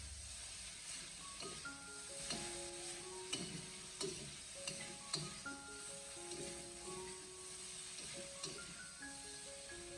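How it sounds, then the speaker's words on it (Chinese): Pork belly and velvet antler mushrooms are tossed fast in a wok with soy sauce, giving a steady sizzle with scraping stir strokes and clinks, all moderately close and with no voices. "然后再继续的给它快速的翻炒，大概30秒左右，把酱油的酱香味给它翻炒出来"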